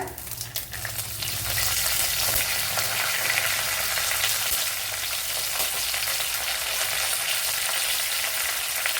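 Curry leaves crackle and sizzle loudly in hot oil in a pan, a dense continuous spatter after an initial burst, with occasional stirring.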